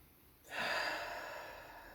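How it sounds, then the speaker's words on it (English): A single deep breath is drawn in through the nose in a quiet room, a soft rushing inhale that starts abruptly and then fades slowly. No one speaks. "Taking a few more deep breaths."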